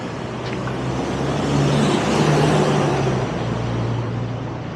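Heavy traffic on a busy city road in Pudu roars steadily as cars, buses and trucks pass at close range, with engine rumble swelling in the middle and no voices.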